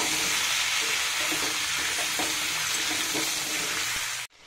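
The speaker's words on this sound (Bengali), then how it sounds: "মূলো দিচ্ছি, সিম, বেগুন, সমস্ত সবজি আঁচ কমিয়ে ভেজে নেব।" Radish, flat beans and eggplant frying in a pan over low heat, a steady close sizzle with stirring scrapes throughout, cutting off abruptly near the end.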